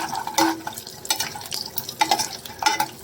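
Edible gum (gond) is fried and stirred in a pan. A spoon scrapes and clinks against the pan in uneven strokes over a soft sizzle, close by, with no talking.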